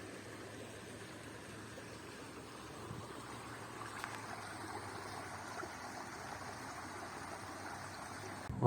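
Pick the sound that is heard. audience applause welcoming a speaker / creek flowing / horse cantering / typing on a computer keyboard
creek flowing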